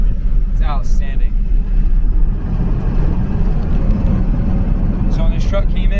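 Swapped Cummins diesel engine idling in a square body truck, a deep steady rumble close by, with voices talking briefly over it.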